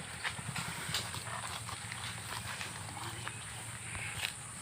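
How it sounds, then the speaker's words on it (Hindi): Well-bred mares stroll on an outdoor stable ground, their hooves making a quiet, irregular clip-clop at close range over faint background hiss. "यहाँ पे घोड़ियाँ सब टहल रही हैं"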